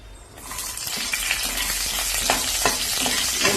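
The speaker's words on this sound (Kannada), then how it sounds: "ಆಯಿಲ್ ಹಾಕ್ತೀನಿ. ಹಾಕಿ ಮೆಣಸಿನ್ಕಾಯಿ ಹಾಕ್ತೀನಿ ಮೊದಲಿಗೆ." Green chillies hitting hot oil in a home kitchen pan, a loud, steady sizzle that swells within the first half second and keeps crackling and spitting with sharp pops throughout, up close with no talk.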